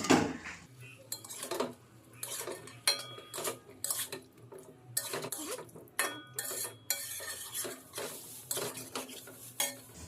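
Boiled new potatoes are stirred into spice masala in a pan, a spoon repeatedly clanking and scraping against the metal in irregular bursts over a quiet sizzle, close and alone.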